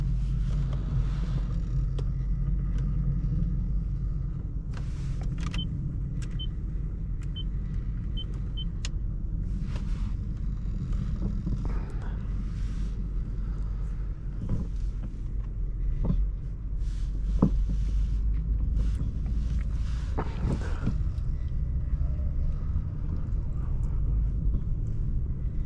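A 2004 Lexus LS430 on the move, heard from inside the cabin: a steady low road and engine rumble with soft tyre noise and occasional faint clicks and ticks, no talking.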